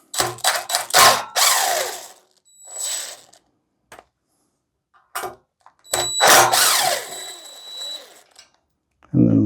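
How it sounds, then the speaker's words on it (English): A power drill backs screws out of a standoff bracket during a BAL Exact Slide cable replacement, with several loud close bursts of whirring separated by pauses and brief clicks of handling. "This is where you may need to go ahead and remove a couple of your screws or your fasteners"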